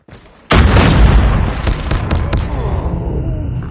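A grenade explodes with a sudden loud boom in the shooter Call of Duty Mobile, followed by a long rumbling decay with scattered gunfire crackles.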